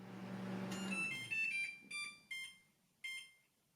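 A Sharp appliance plays its short electronic completion melody after a low hum fades: a series of clear, bright beeping tones in a rising tune, fairly quiet and alone.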